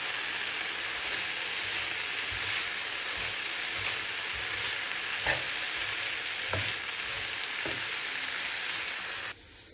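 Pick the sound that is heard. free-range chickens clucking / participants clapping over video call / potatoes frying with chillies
potatoes frying with chillies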